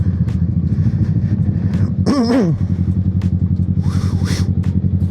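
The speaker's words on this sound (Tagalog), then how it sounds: "ikot natin itong motor kasi madidiskarga na naman" A Kawasaki Z650 motorcycle idles with a low, steady engine rumble while being turned around, with a brief wavering squeal and scraping clatter midway, close and loud with no speech.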